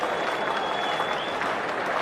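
Packed Adelaide Oval cricket crowd at a Test match applauding and cheering in a steady, loud roar of clapping that holds unbroken throughout, with a faint whistle-like tone running through it.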